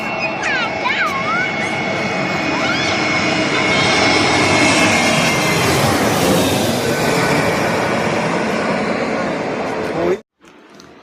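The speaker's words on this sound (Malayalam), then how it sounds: "ഇതുപോലെ ഫ്ലൈറ്റ് നമ്മുടെ തലയ്ക്ക് മീതെ കൂടെ പറന്ന് വരുന്നത്" An airplane flies low overhead on its approach to land at an airport, its engine roar swelling to a loud, sustained peak before cutting off abruptly, with a voice audible beneath it.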